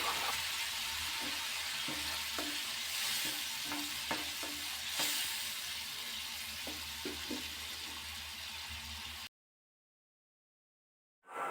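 Tamarind gravy bubbles and sizzles in a pan while being stirred, a constant close frying hiss with soft clinks from the spoon, ending abruptly in silence.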